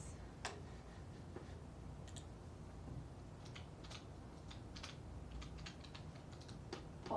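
Quiet keyboard typing out a math function, sparse soft key clicks at irregular intervals over faint steady background hiss, distant and low with no talking.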